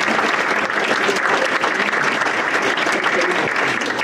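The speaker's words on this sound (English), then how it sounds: "So give them all a round of applause." An audience at a community college economic development forum breaks into sustained applause, a dense wash of hand claps holding steady for several seconds with no voices on top.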